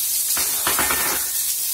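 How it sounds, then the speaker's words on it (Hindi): Sliced onion and carrot frying in a hot pan for homemade chow mein, a close, steady sizzle with a few brief bursts of stirring crackle and no talk over it. "इसको हम 1 मिनट तक भून लेंगे।"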